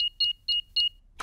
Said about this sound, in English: I'll just switch the alarm off.